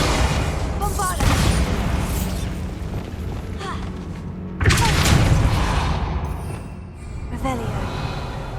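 Bombarda explosion spells cast in Hogwarts Legacy, deep booming blasts that hit twice with crackling debris and rumble trailing off between them, loud and close.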